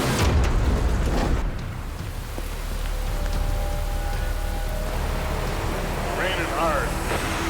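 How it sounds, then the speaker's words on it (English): Hard rain pounding down along a highway in the Fraser Valley, a loud continuous roar of drops on surfaces, with a brief tonal whine and some vehicle noise mixed in. "Raining hard."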